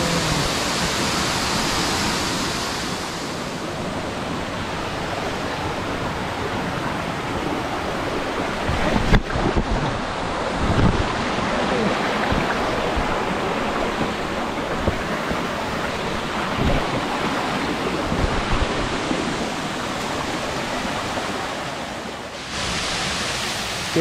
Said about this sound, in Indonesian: Okay, yang ni nombor 4. Air terjun nombor 4.